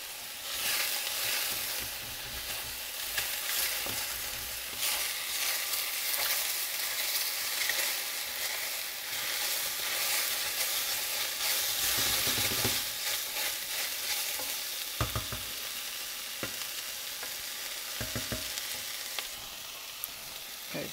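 Hot sizzling and bubbling under a steady stir in a pot of grits being cooked for shrimp and cheese grits, a continuous close hiss with occasional scraping knocks, no talk.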